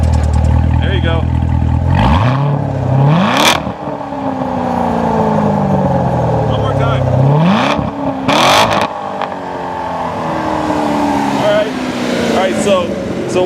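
Engine of a 2014 Chevy Corvette Stingray with its new 6.2-liter V8 revving hard twice, each rev rising sharply and then falling away in a long loud exhaust sweep, with a further surge near the end, all close and very loud.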